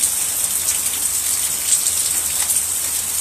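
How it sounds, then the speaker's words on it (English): Steady rain falls in Sedona, a dense continuous hiss of drops pattering on surfaces, close and fairly loud throughout, with no voices. "It is raining here in Sedona."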